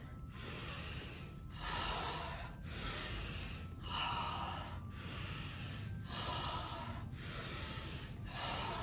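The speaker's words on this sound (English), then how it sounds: "you would inhale nostrils, exhale mouth" Slow rhythmic breathing during a somatic movement practice, in through the nostrils and out through the mouth, with about seven or eight close, breathy cycles evenly spaced and no talking.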